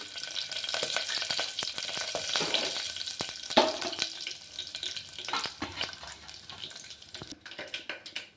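Mustard seeds, cumin and four dried red chillies fry in hot oil for a drumstick sambar tempering, giving a continuous close sizzle and crackle with scattered pops and stirring clatter, no voices.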